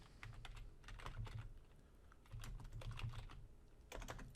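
Computer keyboard typing a folder name on a Windows Server machine, a close, quick run of key clicks in two bursts with a short pause between them.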